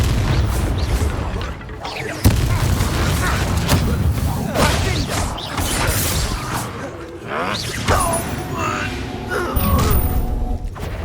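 Blasts of the Confringo spell in the Hogwarts Legacy video game, loud booms and whooshing bursts over a busy battle mix, with spoken voices from the game throughout.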